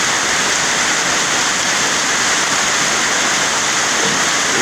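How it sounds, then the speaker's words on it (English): Heavy torrential rain pours down in Ntinda, Kampala, Uganda, filling the air with a loud, constant, unbroken hiss and roar close by. "Hell serious rain."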